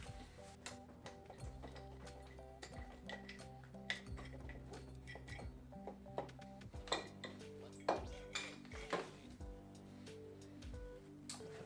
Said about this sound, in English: So now we're going to undo this bolt and wiggle the cylinder free from the piston.